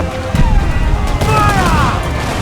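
Ship cannons fire in a video game, a dense volley of heavy booms and crackling blasts under shouted voices.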